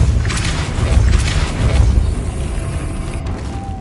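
Casting the Depulso spell in Hogwarts Legacy produces a loud, rumbling blast with a rushing whoosh. It swells for a couple of seconds, then fades into a low roar.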